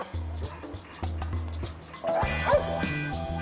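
German Shepherd police dogs at a station bark in a string of sharp, repeated barks at close range, with a busy, louder stretch of barking and clatter partway through, mixed with background activity.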